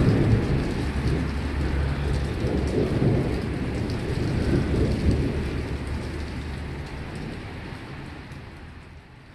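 Rumbling thunder during a snowstorm, with the sun breaking through as light snow keeps falling; a steady, loud low roll continues throughout and slowly fades toward the end, with no voices.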